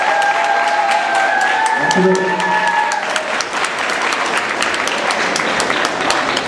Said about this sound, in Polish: Zatem te brawa to troszkę za mało.